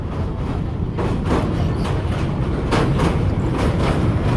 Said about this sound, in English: The train moves to its own beat, now in fast steps, now slow, halts, then starts again, chugging along.